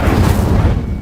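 Incendio fire spell in Hogwarts Legacy, a dense, loud, rumbling roar of flame that sustains for about a second.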